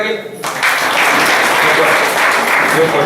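Audience at a school parents' meeting breaks into loud, sustained clapping after a brief pause, a dense crowd applause that holds steady to the end.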